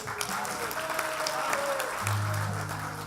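Comedy club crowd applauding a staff member on his birthday: dense, continuous clapping from many hands throughout, with a low hum entering partway and faint voices underneath.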